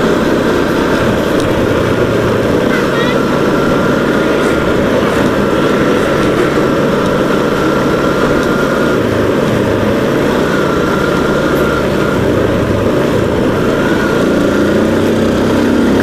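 A vehicle engine is driven at full throttle on a road between Blitar and Kediri, producing a loud, steady droning roar with rushing wind noise that continues unbroken throughout.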